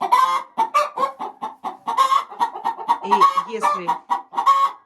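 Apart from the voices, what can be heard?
hen clucking while about to lay an egg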